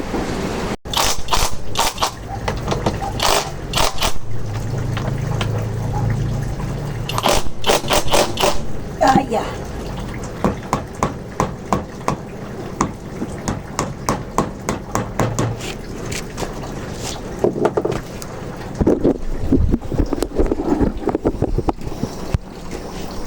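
A KEELAT KID004 impact wrench tightening a motorcycle part on an XRM or Wave 110/125, rapid rattling hammering bursts with a steady whirring motor, close and loud over outdoor wind noise.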